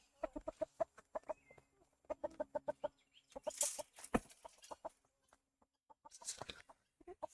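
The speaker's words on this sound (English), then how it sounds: "Here is one of our roosters and some hens." A rooster and hens cluck in short bursts of rapid, throaty notes, with a few higher squawks mixed in, fairly close with quiet gaps between, on a homestead.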